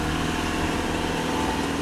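A Subaru Outback all-terrain wagon revs hard with its wheels stuck on an off-road obstacle, giving a loud, steady, strained engine drone that holds without a break and without voices.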